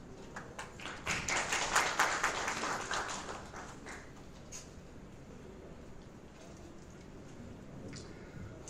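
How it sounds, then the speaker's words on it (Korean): Audience applause at a corporate governance forum seminar, rising to a dense burst of clapping in the first few seconds, then thinning to scattered claps and room tone as the chairman steps up to give his welcoming remarks. "박수로 받아주시기 바랍니다"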